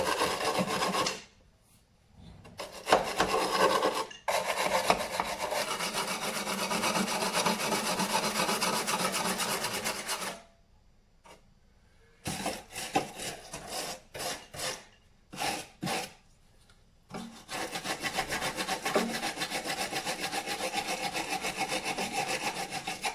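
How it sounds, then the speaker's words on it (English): Wire brush scrubbing surface rust off a Lexus IS200 body, with loud, steady rasping strokes in long bursts broken by short pauses, close up and with no talking. "Probably just get a wire brush on the last few bits"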